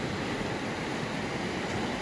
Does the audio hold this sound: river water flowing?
yes